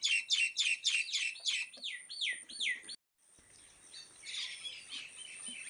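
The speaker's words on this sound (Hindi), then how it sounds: "चिड़ियाओं में लड़ाई हो रखी है, सिंटोलियाओं में।" Small garden birds squabbling, with a rapid run of loud, harsh repeated squawks and chirps up close, then a brief gap and softer, scattered calls.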